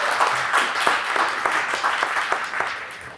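A crowd claps in steady applause at a preseason show for the Tormenta FC soccer team, a dense wash of handclaps running throughout at even loudness.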